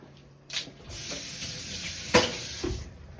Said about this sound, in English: 1 tablespoon of tomato paste. I'm going to put in there. Melt it.